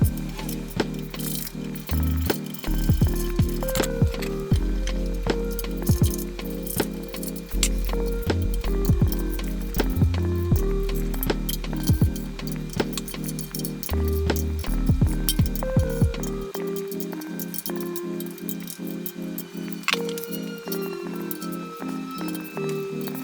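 Tightening oil pan bolts on a Ford Coyote engine block, with a busy run of close metallic clicks and clinks from the tool and bolts over a steady backing soundtrack.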